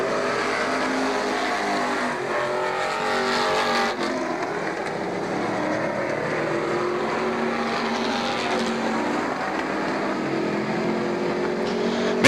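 Stock cars race around Star Speedway, a continuous roaring blend of engines rising and falling as they take the corners, loud and sustained throughout with no voices over it.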